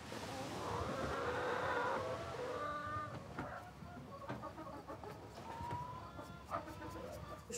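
Chickens on an olive farm cluck in short, scattered calls against a steady outdoor background, fairly close and moderately loud.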